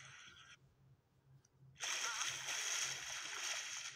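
A character bathes in a video game as water splashes in, first quietly and then in a louder, steady, close rush after a short lull, with faint talking under it.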